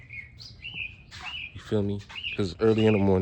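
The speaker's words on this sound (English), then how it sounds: "you hear the birds chirping" Early-morning birds chirp and whistle in bright repeated calls outdoors, fairly near, while someone talks loudly over them.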